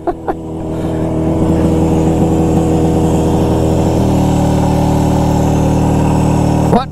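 A vintage snowmobile engine from around 1970 idles steadily and loudly up close, its low putter continuing evenly without revving, with a short thump at the start and end.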